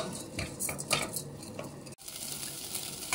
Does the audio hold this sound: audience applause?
no